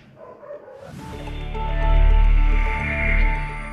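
Service dog puppies at a breeding kennel in Khmelnytskyi, Ukraine, yip and bark in a close, loud, overlapping chorus with whimpering tones that swell after a quieter start, with no talking.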